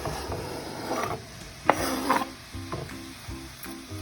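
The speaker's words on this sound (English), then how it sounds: "this is really sizzling and bubbling up right now" Onion and bell pepper sizzle in a hot pan with a soft crackling hiss, broken by a few scraping stirs and clinks of a utensil.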